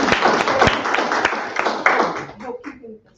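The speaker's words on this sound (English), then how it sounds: "So let's give him a round of applause." Meeting audience applause in a hall, a burst of many hands clapping with a few sharp individual claps, tapering off into scattered claps and murmuring voices near the end.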